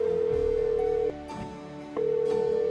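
Telephone dial tone from the Gabriel Knight 20th Anniversary adventure game, a steady loud tone broken briefly by a dropout and short dialing clicks before the tone resumes, with no voices.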